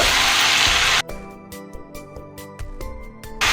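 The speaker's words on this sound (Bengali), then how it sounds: "এখন এটাকে আমি একটু নেড়ে নিচ্ছি" Fried raw jackfruit pieces go back into a pan of hot oil for a Bengali jackfruit curry: a loud, even sizzle for about a second, then quieter frying broken by repeated metallic scrapes and clinks of a spoon stirring.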